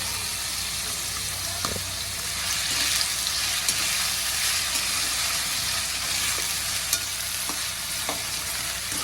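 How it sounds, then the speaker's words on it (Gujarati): Pieces of suran (elephant foot yam) fry in oil with a steady, dense sizzle that holds throughout, broken by a few sharp clicks and scrapes of stirring. "આપણે એમાં સુરણ પહેલાં તળી નાખી"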